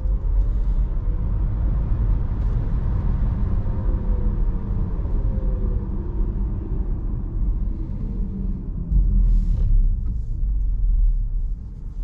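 A rear-wheel-drive Volkswagen ID3 electric car accelerates at full throttle, a steady low rumble of road and motor noise with a faint rising whine, continuous and close throughout.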